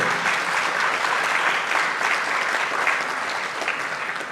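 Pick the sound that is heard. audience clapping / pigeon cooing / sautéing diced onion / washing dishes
audience clapping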